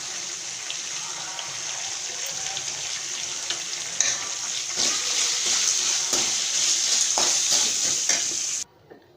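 Lemon rice masala frying and sizzling in a pan, a steady hiss with intermittent scraping stir strokes, close and fairly loud, stopping abruptly near the end.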